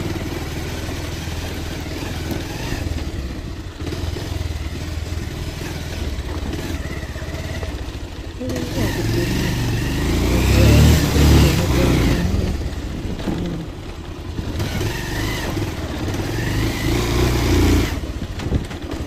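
A motorcycle ridden along a road near a temple, the engine droning steadily then swelling louder midway as it revs, with rough wind and road rumble throughout.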